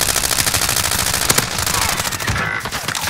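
Rapid automatic gunfire in a shooter video game, dense loud bursts of shots overlapping with sharp single cracks, close and relentless across the whole stretch, no talk.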